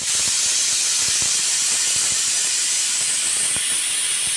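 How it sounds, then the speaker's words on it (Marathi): A kitchen pressure cooker holding chickpeas lets off a long, loud, steady hiss of escaping steam that holds unbroken from start to finish, with no talking. "याला कुकरला झाकण लावून चार ते पाच शिट्ट्या होण्यासाठी ठेवून द्यायचं आहे"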